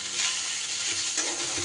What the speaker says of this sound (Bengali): আদা বাটাটা একটু নাড়াচাড়া কয়েক সেকেন্ড করে নিয়ে